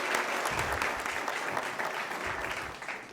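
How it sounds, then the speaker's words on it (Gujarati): Steady applause from an audience welcoming a guest to the stage at a real estate conclave and awards event in Vadodara, continuous and fairly dense throughout with no speech over it. "તાળીઓથી આપણે તેમનું સ્વાગત કરીએ."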